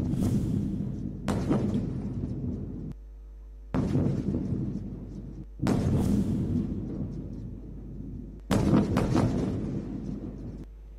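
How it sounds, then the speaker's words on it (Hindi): Several loud, booming blasts at night in Gaza arrive in separate bursts, each rumbling for a second or two before fading, with quiet gaps between them. "मुतअद्दिद धमाकों की आवाज़ें सुनी गईं"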